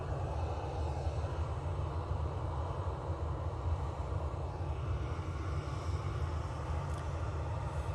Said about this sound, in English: So coming in is the Emirates 777-200LR coming in from Dubai.